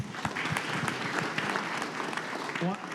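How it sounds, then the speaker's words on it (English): A crowd at a community event on Hawaii's energy future gives a round of applause, a dense, even patter of many hands sustained for about three seconds, fairly close. "Let's give them a round of applause."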